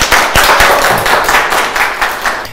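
An audience on a daytime TV show in Adıyaman claps in a dense, steady burst of applause, loud and close, with no talk over it.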